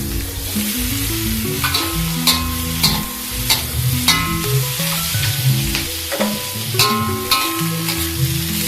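Eggplant sizzles in a hot pan as it is stir-fried, a steady frying hiss broken by repeated scraping and clinks of the spatula, close and loud, with no talking.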